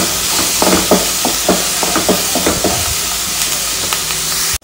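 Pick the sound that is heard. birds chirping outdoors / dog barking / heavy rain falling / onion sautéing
onion sautéing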